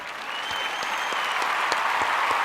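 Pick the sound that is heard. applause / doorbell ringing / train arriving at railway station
applause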